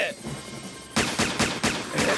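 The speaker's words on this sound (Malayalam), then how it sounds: "വെടിവെക്ക്" Cartoon gunfire from a Motu Patlu animated treasure-hunt episode: after a second of quiet, a rapid string of about five loud, sharp shot bursts fires in close succession.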